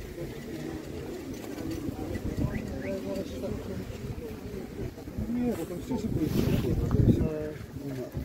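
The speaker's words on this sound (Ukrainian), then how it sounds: "Так, голуби сьогодні є." Pigeons at an outdoor animal market in Ivano-Frankivsk, soft cooing set against a busy background of chatter and crowd murmur, with people talking close by.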